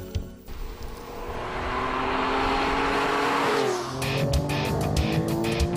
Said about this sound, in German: Trotz fast 70 PS weniger beschleunigt er genauso schnell wie der Audi.